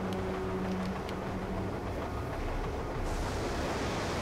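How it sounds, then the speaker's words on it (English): A gondola ride in Call of Duty Black Ops 2 Zombies on the Mob of the Dead map, with a steady low mechanical rumble and rolling noise continuing throughout, brightening near the end, with no talking. "Riding on my gondola"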